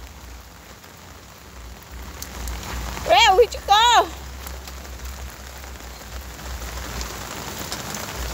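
Steady rain falling outdoors by a roadside, an even hiss of drops on surfaces throughout, with a person speaking briefly and urgently in the middle.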